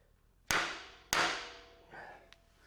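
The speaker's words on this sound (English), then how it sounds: "I just have to hit the bottom one for now with the hammer." Two sharp, ringing hammer strikes on the lower steering part of a 1940 Chevy pickup, each decaying over about half a second, followed by a lighter metallic tap and a faint clink in a quiet workshop.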